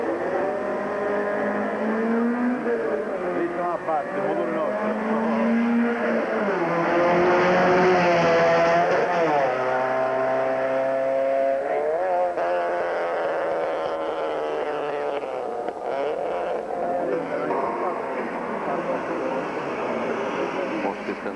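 A loud race car engine roars continuously at the 2002 Svolte di Popoli practice runs, its pitch sweeping up and down as it revs and shifts through gears.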